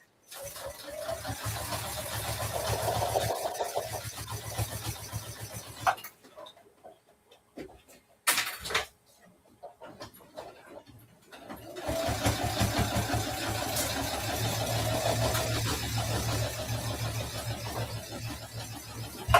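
A sewing machine stitches across the thick humps of a fabric dog leash, a steady motor whir with rapid needle chatter that pauses midway for a few quiet seconds with small clunks, then resumes steadily.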